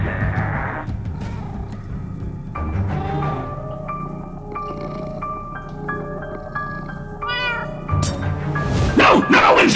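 A cartoon cat meows repeatedly in a Minecraft Story Mode animation, drawn-out and rising calls that turn into a yowl over background music, loud and close.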